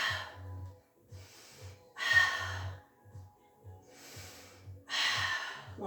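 Deep, slow breaths during a pilates single leg stretch on the mat, heard as a series of audible breathy inhales and exhales in separate bursts, close and fairly quiet over a faint low hum.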